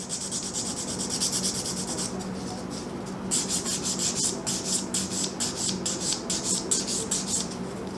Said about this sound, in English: So I'm going to use my finer edge of my coarse file, unroughen it